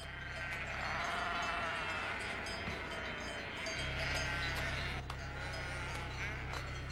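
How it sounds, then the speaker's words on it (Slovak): Sheep bleating repeatedly in a flock gathered on a road, the calls rising and falling over a steady low rumble, fairly distant and moderately loud. "Ovce majú na ceste schôdzu?"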